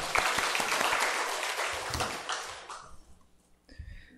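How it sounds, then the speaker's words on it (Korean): A church congregation applauds loudly and steadily, the clapping thinning out and fading away toward the end, with a brief voice afterward. "우리 다시 한번 하나님께 영광의 박수 올려드리겠습니다"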